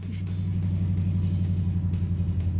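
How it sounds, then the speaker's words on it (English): A deep, steady idle from a 1940s–1950s car engine with a glass pack exhaust, a throbbing low exhaust burble, close and continuous, with a rhythmic pulsing rumble and no talking. "That glass pack, you can hear it coming from down the road."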